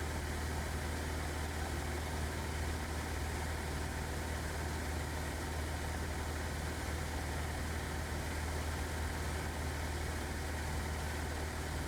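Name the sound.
small airplane engine throttling back in flight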